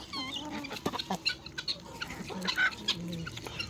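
Chickens cluck in short bursts on a chicken farm, a few birds close by with soft background noise, no talking.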